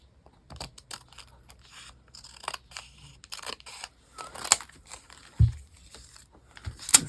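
Paper being trimmed for a small two-ring journal, with several quiet snips and cuts, light rustling and handling noises in short irregular bursts, close by.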